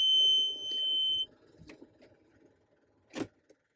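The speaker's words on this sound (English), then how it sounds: "Put the key in the ignition." Key sliding into the ignition of a CAT 289D compact track loader, a short metallic jingle and click near the mic, followed by a few quiet taps in an otherwise quiet cab.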